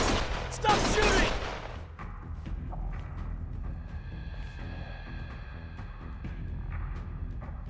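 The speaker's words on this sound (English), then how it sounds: "Stop shooting!" Gunfire in the video game Lost Judgment: a dense burst of shots up front, then scattered mechanical clatter and tonal game sounds with voices talking over the action.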